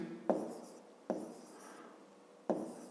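A pen or pencil writes numbers by hand on paper, giving three soft, close scratching strokes, each starting with a small tap and fading off.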